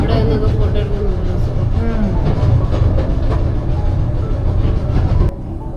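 A train slows to a halt at a UK station platform, its loud rumbling wheel and carriage noise steady throughout before dropping away near the end as it stops.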